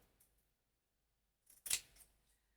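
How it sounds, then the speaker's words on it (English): Fabric scissors slice through cloth while trimming material for a journal spine, giving one quick, close snip after a near-silent pause. "Let me grab my fabric scissors."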